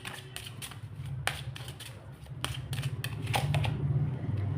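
Tarot cards being shuffled and drawn close up: a quick run of soft riffling flicks and papery snaps, light and irregular, with a low murmur underneath.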